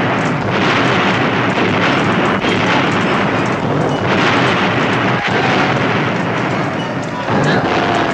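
Cannon fire in a 1958 Georgian film battle scene, a dense, loud, continuous roar of booms and blasts running throughout, with dull thuds standing out now and then.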